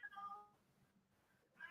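A house cat gives a brief, faint meow at the start and another short cry at the end, quiet and close amid low room noise.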